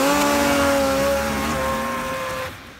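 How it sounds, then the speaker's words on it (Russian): A utility snowmobile engine holds a high, steady whine that slowly drops in pitch and fades near the end. "вот вам утилитарный снегоход"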